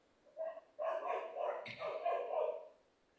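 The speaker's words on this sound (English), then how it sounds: "my dogs are barking" Dogs bark indoors in a quick series of yips and barks, slightly distant and muffled, with no talk over them.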